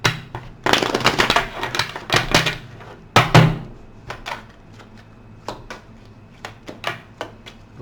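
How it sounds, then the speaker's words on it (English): Tarot cards are shuffled by hand in quick bursts of riffling and slapping, loud at first, then thinning into sparse, sharp taps and clicks. "One more shuffle, guys."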